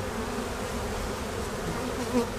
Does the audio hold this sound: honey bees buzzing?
yes